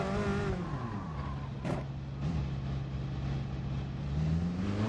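A racing car in Gran Turismo Sport accelerating down the straight at Sardegna, its engine tone climbing steadily with a brief shift dip, sustained and fairly close.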